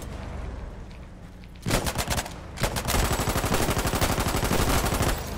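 Bursts of 12.7 mm heavy machine gun fire in the war game Foxhole, rapid loud volleys starting partway in and continuing densely to the end over ambient battle noise.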